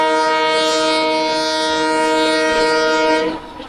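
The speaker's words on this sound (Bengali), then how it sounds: "আমরা সামনে চলে এসেছি, তাই হর্নের শব্দ বেশি শোনা যাচ্ছে।" A train horn sounds as the train crosses a bridge over a river in Assam, a loud, sustained multi-tone blast held for over three seconds before cutting off, heard close from aboard the train.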